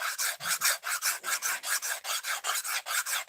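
A dull knife being sharpened to a convex edge with steady rhythmic rasping strokes, about fourteen even passes with brief gaps between them, close and moderately loud with no talking.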